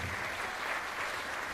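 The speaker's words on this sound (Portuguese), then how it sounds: "pode aplaudir, aleluias." A church congregation at a Nova Aliança house of prayer applauds during a sermon, a steady, fairly soft wash of clapping that continues unbroken throughout with no voices above it.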